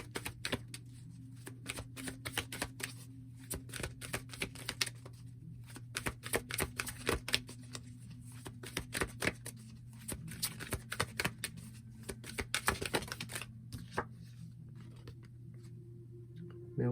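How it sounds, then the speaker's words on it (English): Wisdom of the Oracle cards being shuffled by hand close up, a long run of quick, crisp riffling flicks in irregular bursts over a low steady hum, with no talking. "We're going to pull some Wisdom of the Oracle cards here."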